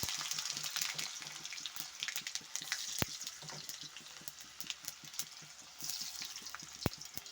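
Mustard seeds and potatoes fry in very hot oil over a lowered gas flame, a dense close crackle and hiss running throughout with scattered sharp pops and a couple of louder utensil knocks.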